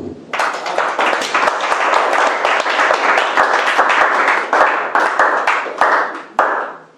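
Congregation in a church clapping together, a dense burst of many hands close and loud for several seconds, with sharp individual claps standing out before it trails off abruptly.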